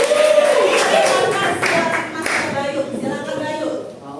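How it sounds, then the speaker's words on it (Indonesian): A classroom of students clapping for a classmate, a loud burst of applause up close that fades over a few seconds while voices talk underneath. "Tepuk tangan buat Bayu dong."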